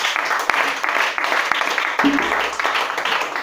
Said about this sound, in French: Voilà, on acclame le Seigneur Jésus-Christ.